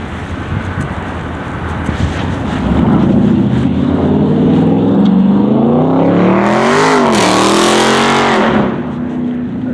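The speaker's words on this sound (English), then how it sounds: "Watch this dude speed up, watch. With the loud muffler," A car with a loud muffler speeds up nearby, its engine note rising and swelling in a strong harmonic sweep, peaking with a surge, then dropping away at the end.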